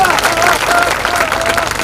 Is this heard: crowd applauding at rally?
yes